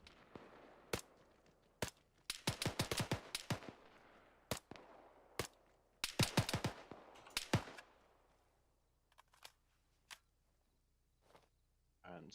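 Arma 3 gunfire suppressing an enemy gunner in the video game, sharp cracks in quick bursts and single shots, fairly close and loud, trailing off into scattered distant pops.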